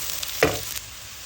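Thinly sliced sponge gourd (dhundul) with a little turmeric hits a hot pan, giving one short burst of sizzle that settles into a soft, steady hiss, near and without talk.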